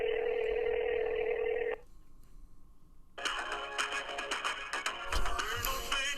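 Phone call being placed: a steady electronic tone that cuts off, a brief quiet pause with a faint hum, then a dense burst of rapid bright tones and digital clicks, moderately loud with no talking.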